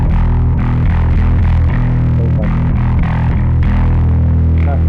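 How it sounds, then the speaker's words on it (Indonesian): Bass guitar runs through a Joyo Monomyth bass preamp with the blend turned fully to the distortion channel, giving a loud, thick, sustained distorted tone with several notes played and no talking. "Nah, saya fullkan blendnya ke channel distorsi."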